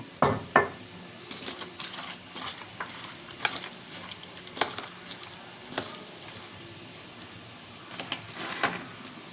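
Raw prawns are mixed by hand with mustard oil, giving soft, wet squelching and light patters that come in quick irregular handfuls, close and quiet, with no talking.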